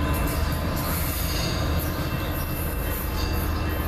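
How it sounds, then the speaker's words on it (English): A northbound Tri-Rail three-car commuter train with two locomotives passes close by, a loud sustained rumble of wheels on rails with metallic squeals and clatter throughout. "we got a northbound tri-rail coming in"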